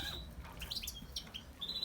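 Pigeons chirp and squawk nearby in short, scattered calls over a quiet background.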